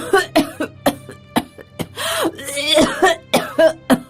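A woman coughs in a series of sharp, separate bursts, close and fairly loud, with short gaps between them and a brief throat-clearing rasp in the middle.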